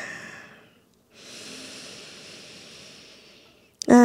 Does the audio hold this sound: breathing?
yes